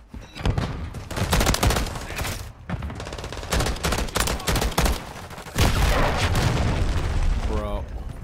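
Burst-fire rifle shots in Call of Duty MW3 multiplayer, rapid clusters of sharp cracks with booming blasts and a player talking over the action.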